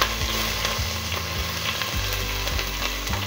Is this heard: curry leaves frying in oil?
yes